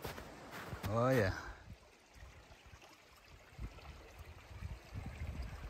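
A small stream of water flows along a winter hiking trail on the Fundy Trail Parkway, New Brunswick, a faint, steady trickle heard at a distance, briefly interrupted by a voice near the start.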